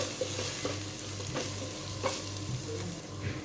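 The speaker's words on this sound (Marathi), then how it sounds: "व्यवस्थित मिक्स करून घेऊया।" Spices for dal khichdi, including salt, turmeric, coriander-cumin powder and pav bhaji masala, being stirred in a hot pan, a steady close sizzle with repeated scraping strokes of the spoon, no talk.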